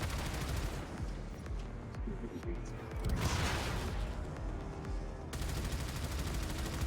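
Video-game gunfire rakes enemy turrets on cruise ships, rapid bursts of loud automatic shots and booms overlapping in a near-continuous barrage, with brief pauses between volleys.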